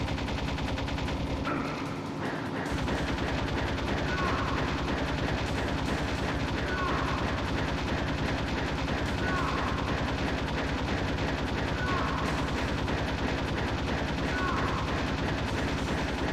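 Sustained rapid gunfire while shooting at a boss in Metal Gear Solid, a dense continuous rattle of shots running nearly the whole time with a short break near the start.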